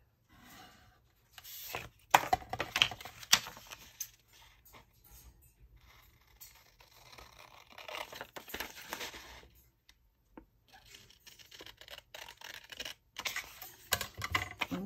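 Scissors cut paper for a junk journal pocket foldout, giving irregular crisp snips and rustles up close, with pauses as the paper is shifted and handled.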